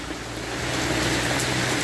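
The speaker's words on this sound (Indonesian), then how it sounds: "hujan deras." Heavy rain pours down at a roadside post at the Gunung Kunyit junction during a night with dense traffic, a loud continuous wash of noise with no voices.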